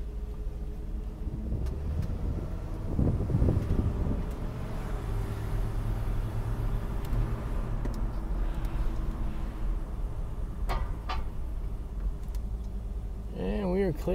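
A 1969 Ford Thunderbird engine hums and rumbles close by as the car drives along, with road and wind noise and a few brief sounds over it.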